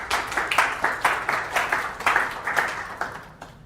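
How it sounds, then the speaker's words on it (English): A small audience at a talk on AI investing claps for a guest, with distinct, fairly quiet claps in an uneven rhythm that thin out toward the end. "Please give a round of applause to Kelvin"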